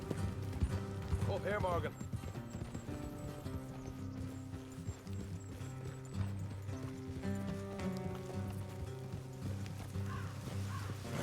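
Horse hooves clip-clop steadily under a dense music score and a voice as riders in Red Dead Redemption 2 ride along a road.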